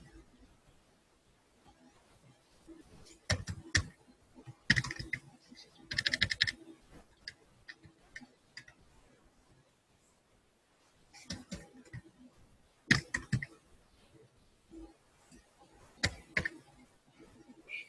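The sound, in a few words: computer mouse clicking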